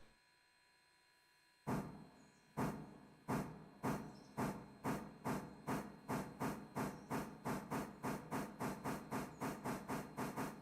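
Steam locomotive in the Railroader video game pulling away: loud chuffs start slow and widely spaced, then speed up into a rapid, even rhythm over a constant hiss, with no one talking.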